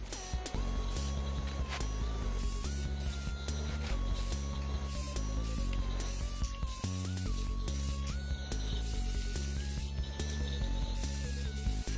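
Neon green spray paint hisses steadily from an aerosol can onto a pair of shoes, a continuous loud spray with brief pauses between bursts, heard up close with no talking.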